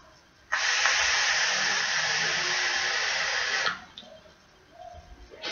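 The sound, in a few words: exhaling e-cigarette vapour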